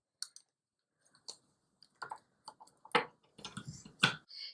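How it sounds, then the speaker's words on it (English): Scissors snipping through yarn wound on a pom pom maker, a series of short, crisp cuts and clicks close by, sparse at first and then bunching into quicker clusters of snips near the end. "I got to cut on the outside of this side as well"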